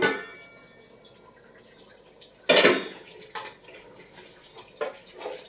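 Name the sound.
stirring duck meat in a cooking pot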